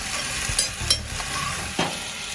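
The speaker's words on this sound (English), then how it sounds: "Listen to my potatoes doing a little fry." Potatoes frying on a lump charcoal grill give off a soft steady sizzle, broken by a few sharp clinks and bumps of handling, close by and without speech.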